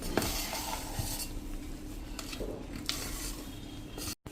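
A spoon stirs idli batter with salt in a bowl, giving soft scraping and occasional light clinks against the sides in a steady, close-up mixing rhythm.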